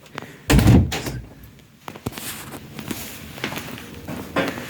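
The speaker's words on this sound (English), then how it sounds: "let's close this door and get through here." An indoor door swings shut with a single loud, heavy thud near the start, followed by quieter bumps and shuffling as someone moves around nearby.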